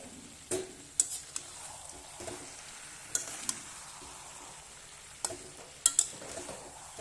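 Potatoes frying in a pan with desi rooster chicken for a traditional Tripuri dish: a steady low sizzle, broken by a few sharp metallic clinks and scrapes of a utensil against the pan.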